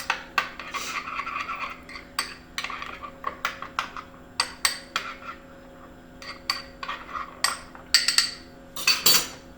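A spoon clinks and scrapes against a bowl while stirring a biscuit topping mixture with garlic powder and dried parsley, a steady series of close, light metallic taps and rubs with no talking.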